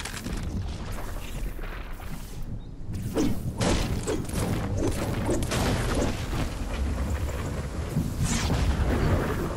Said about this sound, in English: the storm's right behind me